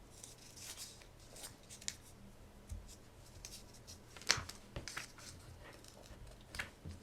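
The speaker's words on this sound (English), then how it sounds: "So I'll cut in here on the opposite side, and I'll cut in here." Scissors cut into a 12x12 sheet of craft paper to shape a bow, producing faint, close snips and paper rustles spread across a quiet stretch, with one sharper cut midway.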